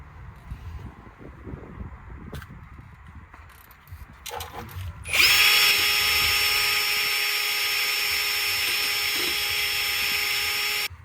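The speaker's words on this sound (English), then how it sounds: "I use a drill and a wire brush attachment to clean it." Some quiet handling noises, then a power drill with a wire brush attachment whines up to a loud, steady high-pitched spin, cleaning a Ford Focus Mk2 wheel hub, holding continuously for several seconds.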